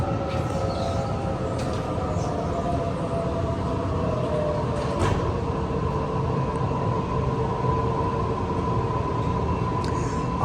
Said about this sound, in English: Film this train leave